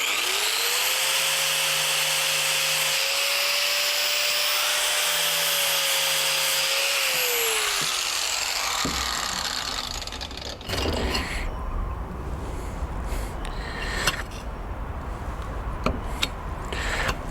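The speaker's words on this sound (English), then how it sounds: "let me get a grinder and we're going to grind to see what happens" Angle grinder cutting into a cheap Temu tool, a loud whining spin that holds steady with brief pitch rises, then winds down around halfway, leaving quieter scraping and handling noises.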